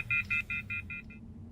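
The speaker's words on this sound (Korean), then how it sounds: "전화를 갑자기 끊어버립니다" A phone call hang-up tone plays as a short series of about six evenly spaced electronic beeps, faint and alone, ending after roughly a second.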